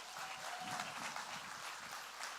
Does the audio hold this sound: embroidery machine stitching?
no